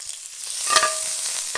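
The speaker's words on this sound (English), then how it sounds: "We're gonna start with frying off the fat." Steak fat frying off in a hot pan for steak fajitas, a close, crackling sizzle with stirring scrapes that swells briefly midway and holds steady.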